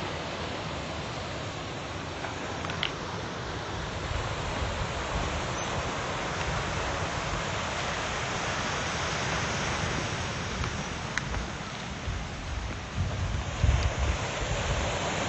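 Ocean waves rolling onto a beach in Bali, a steady broadband wash of surf mixed with wind noise on the microphone, continuous and fairly even with no voices.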